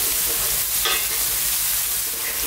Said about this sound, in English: giving this a stir every now and then, medium heat